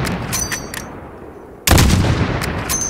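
One loud sniper rifle shot in Call of Duty Modern Warfare Remastered bursts abruptly out of a quiet scene of soft ambient clicks and rings on with a long reverberant decay.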